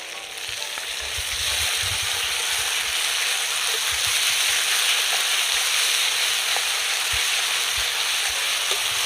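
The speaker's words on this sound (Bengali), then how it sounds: "ভালো করে কিন্তু পেঁয়াজের সাথে ভেজে নিতে হবে।" Onion sizzling and frying in a pan with chili, ginger and garlic paste stirred in for a chicken kosha curry, a steady, dense crackle that swells after the first second and holds loud and close, with no talk.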